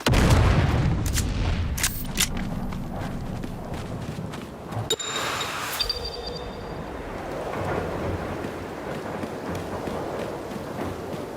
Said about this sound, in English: with our friend coming from above and throwing out one more grenade